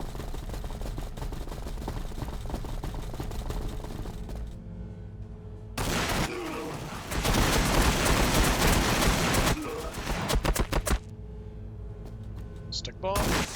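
Dense gunfire and explosive fire from a Warhammer 40,000: Battlesector battle between T'au and Ork armies, bursts of loud shooting and impacts alternating with quieter stretches, with someone talking over the action.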